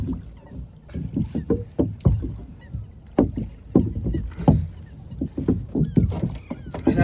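Oars dip and splash rhythmically as a rowboat is paddled while trawling for rainbow trout on Loch Forfar in Scotland, close repeated watery strokes with light wind noise.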